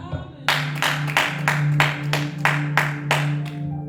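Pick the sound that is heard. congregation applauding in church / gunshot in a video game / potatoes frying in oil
congregation applauding in church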